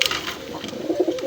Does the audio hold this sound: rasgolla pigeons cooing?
yes